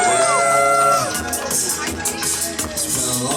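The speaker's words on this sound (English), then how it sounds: "Make some fucking noise in the building." A crowd at a Halloween concert performance cheers and shouts over loud pounding music, a dense roar of voices and whoops mixed under the amplified track.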